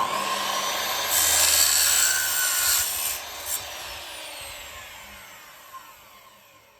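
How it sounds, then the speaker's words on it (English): A saw cuts a miter in wooden trim for ceiling and box trim on a living room accent wall. The rasping stroke is loud and close for about three seconds, then the sound trails off into faint rubbing and quiet. "I just have to pay attention when I cut and do the angles because I'm doing a miter cut."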